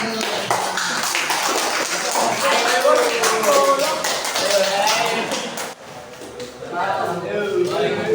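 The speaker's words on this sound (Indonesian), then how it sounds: "Kasih tepuk tangan untuk Mas Ayu." Classroom clapping for a student coming forward in a vocational automotive class, scattered hand claps tapping along under ongoing talk, dipping briefly before resuming.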